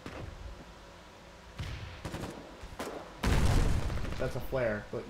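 A mortar firing from a half-track in the Foxhole war game: scattered thuds and clanks, then a loud deep boom followed by rumbling; a voice talks briefly near the end.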